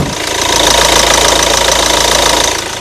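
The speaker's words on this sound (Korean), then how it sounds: "엔진 소리 바로 들려드리고" The diesel engine of a Hyundai New i30 idles close by, with a loud, steady rhythmic clatter and a deep vibrating hum throughout.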